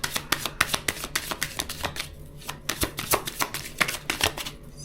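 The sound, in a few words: shuffling tarot cards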